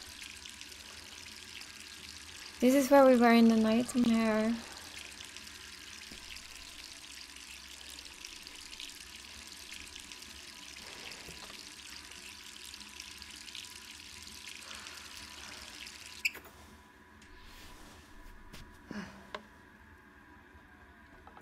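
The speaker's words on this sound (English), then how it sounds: "And the water is running." Water runs from a tap in a dark bathroom in the Resident Evil 3 Remake game, a faint steady hiss lasting throughout, with a loud burst of other sound near the start and a brief spoken line over it.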